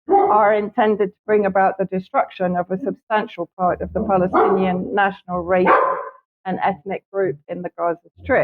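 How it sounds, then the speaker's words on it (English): A dog barks repeatedly in the background at neighbours up on a roof, the yaps sitting faintly under continuous steady speech from someone talking throughout. "apologies for the dog barking, my neighbors suddenly decided to go on the roof"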